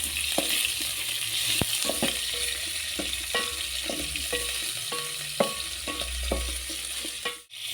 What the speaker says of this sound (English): That is after the meat has fried a little bit.